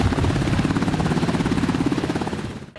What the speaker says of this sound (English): I'm here in the Black Hawk helicopter that the National Guard uses